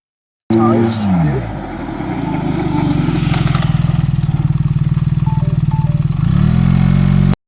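A BMW GS adventure motorcycle braking hard from speed, its engine note dropping and then settling into a close, loud, steady pulsing throb before revving again at the end, with no speech over it.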